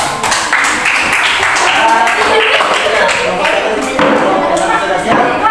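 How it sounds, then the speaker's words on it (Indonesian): A room full of people applauds for a presenting group, steady dense clapping with scattered sharper individual claps, close and continuous throughout with voices mixed in. "Tepuk tangan untuk kelompok dua."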